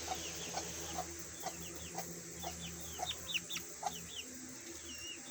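Hens in a backyard flock cluck in short, scattered calls over a steady low background hum, fairly close and moderate in level, with no talking.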